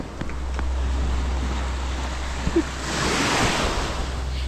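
Surf washes onto the sand at Cat Co Beach on Cat Ba Island in Vietnam, a steady wave hiss swelling midway, with a low wind rumble on the microphone throughout.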